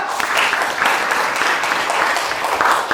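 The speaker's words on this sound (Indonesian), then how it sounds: "kita beri tepuk tangan untuk teman kita" Audience applause at a group discussion session, dense steady clapping that fills the whole stretch at close range and moderate loudness, with no speech over it.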